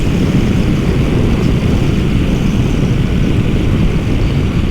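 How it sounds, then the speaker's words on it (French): A 2022 Triumph Tiger Sport 660 motorcycle engine holds high revs at about 6250 rpm on a highway, a steady loud drone mixed with heavy wind rush, with no voices. "comme ça vous allez pouvoir relever le régime moteur à 130."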